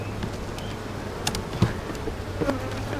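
A dense, steady buzz of many honeybees packed in a hive fills the space, close and continuous, with faint clicks and bumps underneath.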